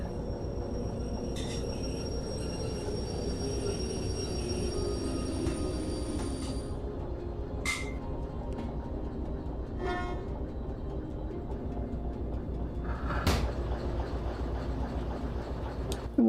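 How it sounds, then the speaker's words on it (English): A freight train in the Derail Valley game slows to a halt on a siding, giving a steady, loud rumble and rolling noise with a few short squeals and clanks breaking through. "we are pulling onto the siding here. So it is time to slow down and really bring this train to a halt"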